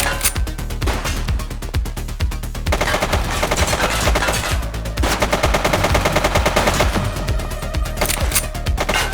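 Rapid automatic gunfire from the video game The Precinct rattles on almost nonstop for several seconds, loud and close, with brief gaps between bursts and no talk over it.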